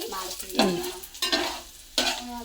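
Chilli chutney with turmeric powder and curry leaves is stirred in a pan, with a spoon scraping through the mixture in several distinct strokes over a low sizzle, close and moderately loud.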